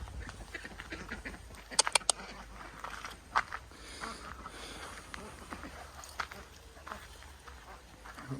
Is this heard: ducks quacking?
yes